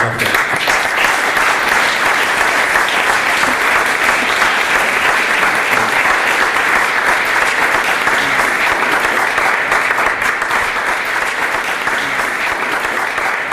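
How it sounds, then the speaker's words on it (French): Sustained audience applause at a spring evening event fills the whole stretch, dense and steady with many hands clapping at a fairly loud, even level and no voices rising above it. "je vous demande à nouveau de les applaudir"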